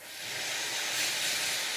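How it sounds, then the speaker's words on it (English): Steam iron releasing a continuous hiss of steam onto sewn dungaree fabric, a steady, fairly close broadband rush that swells slightly and holds without pause, with no talking. "And give it a little steam."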